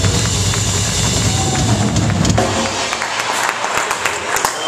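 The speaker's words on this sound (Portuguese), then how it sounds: "que uma salva de palmas para vocês." A crowd applauds at a small rock festival club show in Guimarães, a loud wash of clapping and cheering that thins out after a few seconds into scattered claps.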